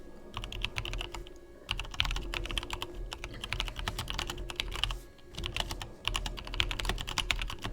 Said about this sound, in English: Nobody look at me type.